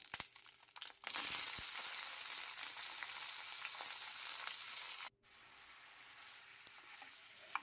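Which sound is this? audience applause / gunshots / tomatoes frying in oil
tomatoes frying in oil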